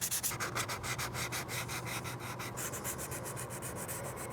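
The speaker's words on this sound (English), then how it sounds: "We got everything sanded down to 220 grit" A 3D printed mask being sanded with 220 grit sandpaper, producing steady rhythmic rasping strokes, close and fairly loud, repeating about four times a second with no talk.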